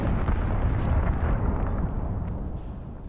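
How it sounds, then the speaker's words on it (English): Enemy cruise missile blast in Call of Duty: Modern Warfare, a heavy, sustained rumbling roar that stays loud and dense throughout before easing slightly at the end, with no voices. "We have the enemy cruise missile incoming."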